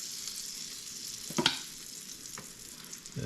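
Pancake batter sizzles as it hits melted butter in a hot pan, a close, continuous frying hiss broken by a couple of brief scraping clicks from the spoon.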